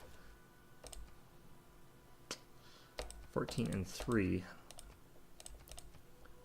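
Numbers typed on a computer keyboard during a Civilization 6 game, a few sparse, sharp key clicks scattered across the moment, with someone briefly speaking in the middle.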